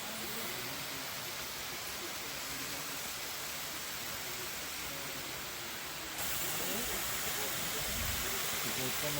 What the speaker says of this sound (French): Donc là on est arrivé au pied de la cascade